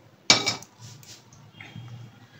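A single sharp metallic clank as a kadai is set down on a gas stove, followed by faint scraping and soft kitchen noise.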